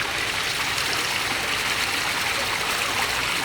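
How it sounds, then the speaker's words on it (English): Water from a rain shower head on a DIY multi-port koi pond filter pours steadily in a broad, even hiss of falling spray, continuous and fairly close with no talking. "I can go ahead and open up the rain shower head. Now it's going to start flowing out over here"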